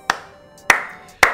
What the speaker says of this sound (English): Don't clap near the mic.